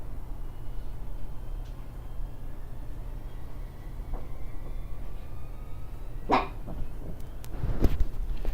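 A dog barks a couple of times at moderate distance in the game Children of Morta, short sharp yips over a quiet indoor background hum.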